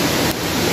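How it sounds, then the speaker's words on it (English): Waterfall running beside a tent at a cold cave campsite at night, a loud, close, continuous rush of falling water in a very short stretch with no speech. "I've got my tent right beside the waterfall."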